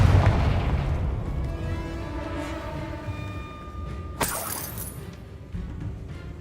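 A Confringo fire spell in Hogwarts Legacy bursts with a single sharp, loud blast midway, cutting through a busy, rumbling game soundscape that fades afterward.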